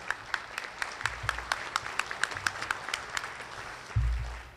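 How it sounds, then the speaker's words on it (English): A small group at a business networking breakfast applauds new members. Distinct individual claps come through clearly at a fairly steady rhythm over a low murmur, with a thump near the end. "A round of applause for all of our new members."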